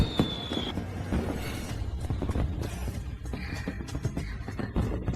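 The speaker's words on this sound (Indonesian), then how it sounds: "kembang api ini sungguh indah." Fireworks bursting over a city, a dense run of crackling pops and muffled booms with brief whistling streaks, loud and continuous throughout.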